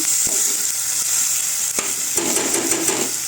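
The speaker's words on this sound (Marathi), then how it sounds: "सगळं घालायचं. चांगलं परतवायचं" Brinjal and potato sautéing in a hot pan with tomato, a steady bright sizzle broken by several sharp scrapes and knocks of a spoon stirring against the pan, close and loud with no talking.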